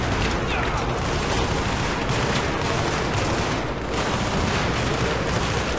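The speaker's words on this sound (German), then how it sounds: "Von überall schießen sie, hey." Dense, loud gunfire from the Battlefield 3 video game, a continuous barrage of automatic fire and blasts with no gaps, with voices partly audible beneath it.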